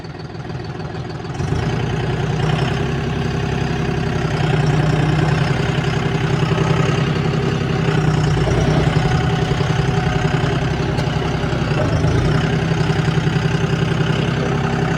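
A tractor with a synchroshuttle gearbox runs close by, its diesel engine starting up and then holding a steady, loud idle with a low, even throb throughout. No one speaks over it.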